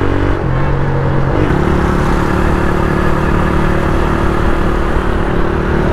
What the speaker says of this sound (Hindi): ये है मेरी CB125F 125F होंडा, चेक करें आप, जो कि YVR का कंपेटिटर है।